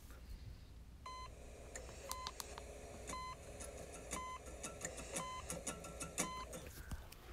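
Steady electronic beeps, like a hospital monitor, open a song intro from an album. The tones repeat evenly about once a second over a dense, murky background hum.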